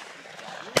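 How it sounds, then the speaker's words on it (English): A single sharp shotgun blast from skeet shooting during a competition cracks out near the end, following a stretch of low, steady outdoor background. "We're gonna go do some skeet shooting"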